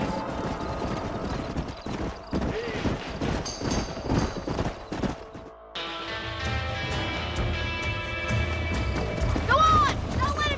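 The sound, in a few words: horses galloping in video game Red Dead Redemption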